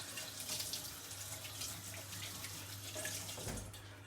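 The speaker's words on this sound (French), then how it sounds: "Je me rince juste vite fait les mains" Hands rinsed quickly under a running kitchen tap, a steady broadband splashing hiss of flowing water, close and continuous with slight surges, no talking.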